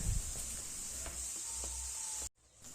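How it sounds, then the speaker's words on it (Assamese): Tomato and rice-flour pithaguri frying in a pan, a soft continuous sizzle with faint scrapes, close and fairly quiet, cutting off abruptly near the end. "এইখিনি আমি ভালকে ভাজি লম"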